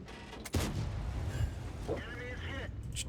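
A tank cannon fires once in the World of Tanks video game, a sudden booming blast followed by rumbling echoes, then quieter mechanical engine noise and a couple of smaller reports.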